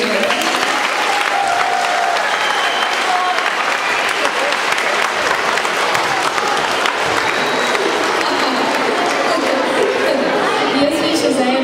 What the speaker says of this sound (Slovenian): Dajmo en aplavz za Edo.